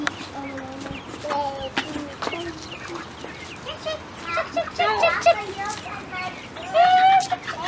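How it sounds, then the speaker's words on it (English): Chickens cluck and squawk in short bursts while being carried around by a child, with children's voices and talk mixed throughout. "determined to carry these chickens around"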